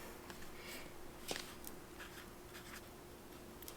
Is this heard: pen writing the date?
yes